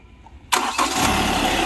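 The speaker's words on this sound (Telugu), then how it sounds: "సింగిల్ సెల్ఫ్లో అయితే కార్ స్టార్ట్ అవుతుంది." A 2015 Hyundai Creta SX Plus AMT engine starting on a single crank. After half a second of quiet it catches with a sudden loud burst, then settles into a steady close idle.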